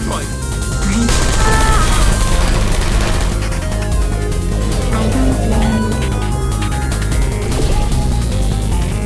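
Bursts of gunfire crackle over a loud, dense soundtrack with low pounding music in the video game Portal 2, continuous throughout without clear breaks.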